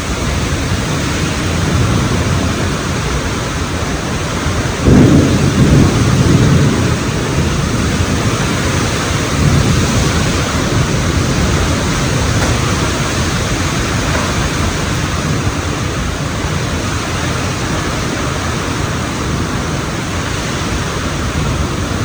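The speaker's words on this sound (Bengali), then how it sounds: "আজকে সকাল সকালে ঝড় বৃষ্টি শুরু হয়ে গেছে, অনেকক্ষণ ধরে হইতেছে" Heavy morning rain during a thunderstorm in a rural home yard makes a dense, constant roar of downpour, loud and close, steady throughout with a brief surge midway and no talking.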